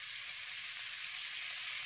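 Potatoes and pointed gourd sizzle steadily in hot oil with salt and turmeric, a close, continuous hiss of frying with no voices.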